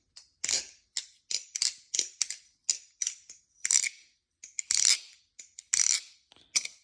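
A Talisong Z balisong trainer being flipped gives a rapid, irregular series of sharp metallic clicks and clacks, close and crisp, with some louder rattling snaps among them and no talking.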